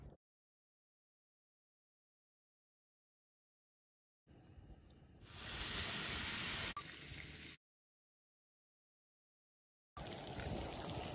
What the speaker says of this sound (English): Yes, sizzle, sizzle.